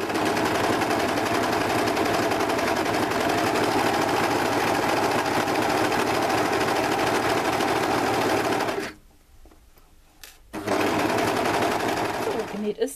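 A sewing machine stitches all the way around a beret in white thread, running loud and steady at high speed. It stops briefly near the end, then runs again.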